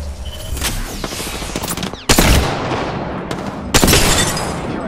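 Heavy gunfire in the battle royale video game Apex Legends, a dense continuous barrage of rapid shots with two sharp louder blasts cutting in, close and intense throughout.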